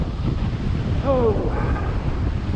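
Wind and surf roll steadily along the beach at Wilsons Promontory, a broad continuous rush that stays loud throughout, with a brief voice rising over it midway.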